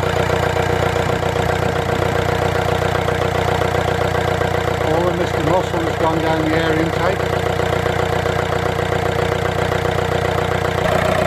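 A VW Sharan 1.9 TDI diesel engine idles steadily throughout, a constant close mechanical drone with light knocking, while someone talks over it.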